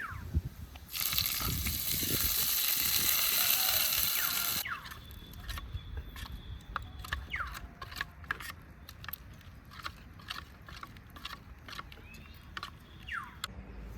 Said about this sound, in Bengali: এই সর্ষে আর শুকনো লঙ্কা, আবার দিয়ে দিচ্ছি চাটনিতে।